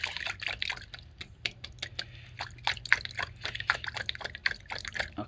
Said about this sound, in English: you can see the water is flowing right now